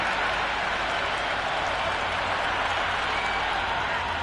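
A cricket crowd at a T20 World Cup match between Namibia and the Netherlands applauds a well-timed shot, a dense, steady roar of clapping and cheering that fills the whole stretch, with commentary likely running over it.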